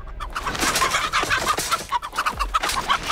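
A chicken in The Texas Chainsaw Massacre video game clucks in rapid, busy bursts close by, with short pauses between runs of calls and no speech over it.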